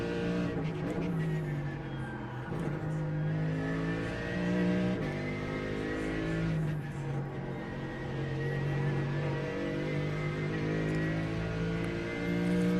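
In the iRacing sim, a race car circles the Nurburgring with a continuous engine drone that climbs and drops through gear changes, steady and moderately loud across the whole stretch.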